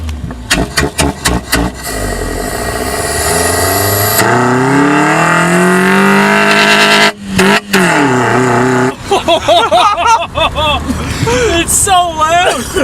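A car engine fitted with a cold air intake revs hard and loud, climbing in pitch through the gears with a deep rising drone and bursts of throttle, while excited voices talk and shout over it.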